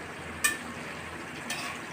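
Herbs frying and bubbling in hot coconut oil, a soft steady hiss with a couple of brief louder crackles, quiet and close, without voices.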